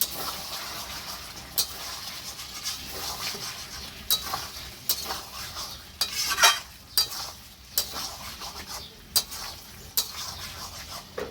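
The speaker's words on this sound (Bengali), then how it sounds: "এবার আবার একটু নেড়ে দেবো।" Desi chicken kosha is stirred in a pan. Scattered scraping and clinking strokes of the spoon come at irregular intervals over a soft sizzle, with one brief louder burst of spattering midway.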